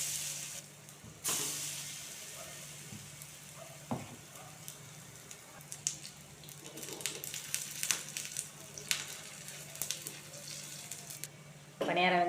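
Cassava paniyaram batter balls fry in oil in a paniyaram pan, giving a soft continuous sizzle close by. Occasional clicks and utensil taps come through, and someone speaks over parts of it.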